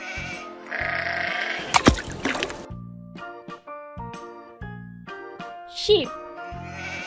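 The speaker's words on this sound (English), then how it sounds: "Sheep." Sheep bleat repeatedly at close range over a layer of background music, the calls wavering and loud between other farmyard-style sounds.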